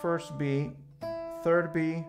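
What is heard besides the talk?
No distinct noise like a dog, phone or traffic.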